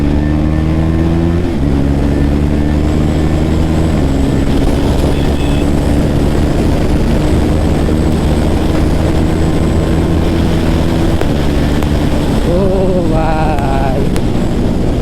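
A loud KTM Duke 390 motorcycle engine winds up through several gears, the pitch climbing and stepping up with each shift, with a brief voice near the end.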